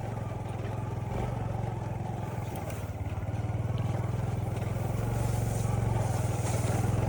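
An old motorcycle, bought in 2017 and unserviced for nine years, idles steadily on a farm, its low, even engine drone swelling slightly louder toward the end with no talk.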